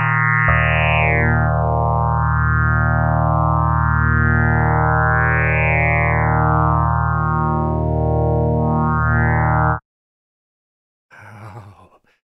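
A sustained FM synthesizer tone from the Six Sines synth, with LFO modulation producing slow, wavering sweeps in its timbre, plays loudly for about ten seconds, then cuts off; a short burst of a brighter sound follows after a gap.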